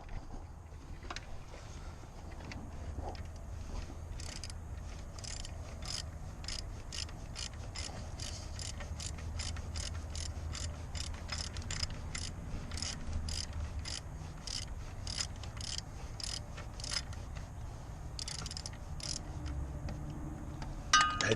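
Ratchet wrench clicking on a pulley bolt in a Jeep engine bay during repairs, a long run of rapid close clicks in uneven bursts over a low mechanical background.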